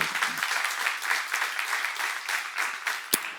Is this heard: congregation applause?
yes